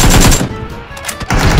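Video game gunfire in loud, rapid automatic bursts, with a brief pause between two volleys, close and dominant with no talking over it.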